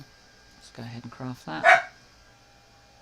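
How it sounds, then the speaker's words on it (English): A pet dog lets out a short burst of several quick, close barks indoors, landing right after a man's brief speech. "Excuse my dog."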